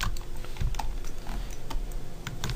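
Keys on a computer keyboard are typed in quick, irregular bursts of close, crisp clicks, with a few heavier presses such as the spacebar, and no voices.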